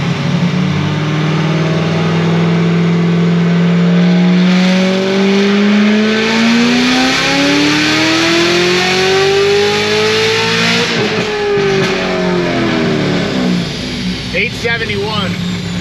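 A supercharged Corvette C7 Z06 with a stage 4 cam revs hard on a dyno, its engine pitch climbing steadily through one long pull before cutting off, loud and close, with voices talking over it.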